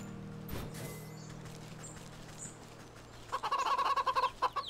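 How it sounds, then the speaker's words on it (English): Chickens cluck in the Wytchwood video game, a rapid burst of repeated clucks rising near the end over a quiet ambient background hum. "Chickens!"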